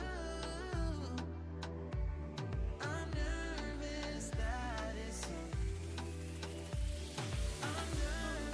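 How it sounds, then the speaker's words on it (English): Beef steak cooking in a pot with garlic and a sprig of thyme gives a loud, close sizzle and frying hiss, broken by repeated heavier pulses and clatter as the pan is worked. "Then I will add my steak in, cover this to get the flavor, and then remove it."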